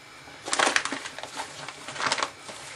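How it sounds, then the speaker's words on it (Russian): Coarse salt pours into about 1.5 liters of water for brine, making a gritty rustling crunch in a few short bursts, close and fairly quiet, with no talk over it. "И теперь необходимо сюда добавить соль."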